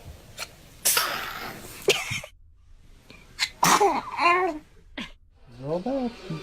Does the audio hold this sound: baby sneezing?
yes